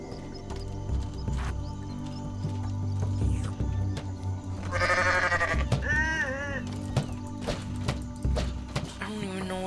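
A goat in the Goat Simulator video game lets out a couple of wavering, nasal bleats partway through, standing out over a steady bed of game music and ambient sound.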